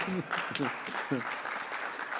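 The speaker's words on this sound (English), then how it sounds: "Now a round of applause is appropriate" Attendees at an assembly meeting give a round of applause, a continuous wash of clapping heard under someone speaking briefly over it.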